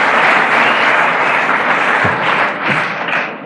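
An audience at an Alcoholics Anonymous speaker meeting breaks into loud, close, sustained applause that fills the room and then tapers slightly toward the end.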